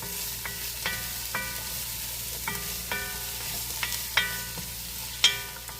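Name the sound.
vegetables sautéing in a pot for chicken soup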